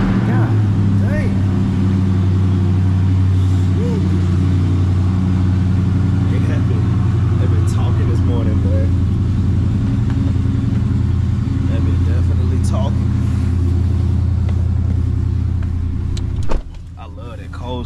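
A car engine runs after a cold start, holding a steady, deep, rumbling idle close to the microphone for most of the time before the sound abruptly cuts near the end.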